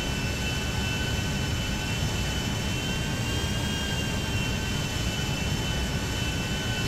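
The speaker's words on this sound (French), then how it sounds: "gros son avion." A large jet airplane roars steadily and loudly overhead in Haiti, a continuous broad rumble with faint whining tones running through it and no letup.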